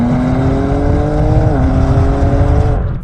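Exhaust of a new BMW M3/M4 fitted with a petrol particulate filter, a loud, steady droning engine note with rising and dipping pitch as the car cruises, fading slightly at the end.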